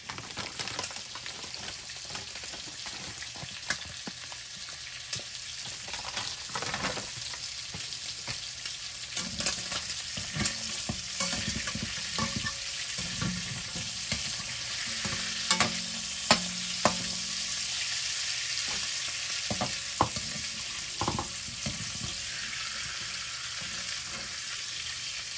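Shrimp frying in hot oil for a Tamil shrimp and drumstick curry, a steady close sizzle with scattered pops and crackles throughout, no voices.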